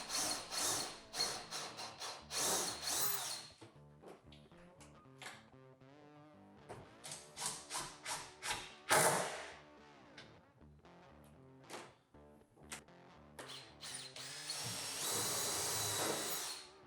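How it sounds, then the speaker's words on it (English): A power drill whirs in repeated short bursts, rising and falling in pitch as it pre-drills holes and drives screws through cabinets into wood, with pauses between each screw. "Then I'll pre-drill the holes and drive screws through both cabinets"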